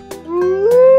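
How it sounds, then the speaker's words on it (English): A single wolf howl, a clear rising tonal call sliding upward and holding steady, heard close and alone with a couple of brief bursts of noise near the start and middle. "Wolf."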